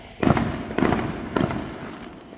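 Fireworks going off downtown at night, three distant booming bursts about half a second apart, each with a rumbling tail under steady outdoor background noise.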